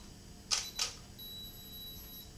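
A camera shutter fires with a Yongnuo YN560 Speedlite flash mounted on top, giving two quick, close clicks followed by a thin, steady high whine as the flash recharges.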